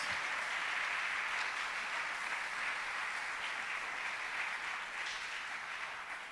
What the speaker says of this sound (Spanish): Le aplaude al Señor Jesús por eso.